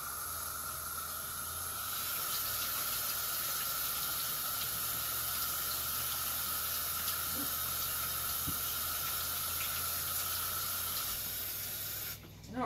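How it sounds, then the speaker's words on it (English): A kitchen tap runs steadily while hands are washed, an even hiss of falling water held for about ten seconds before a short clatter near the end. "Let me wash my hands and get a spoon"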